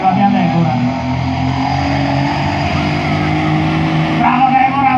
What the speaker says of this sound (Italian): ascoltiamo il motore, la mia Deborah.